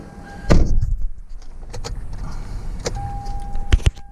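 A car door on a 2010 Kia Soul with 220,000 miles slams shut with a loud close thump, followed by a few clicks and a second thud, alongside a steady electronic chime tone.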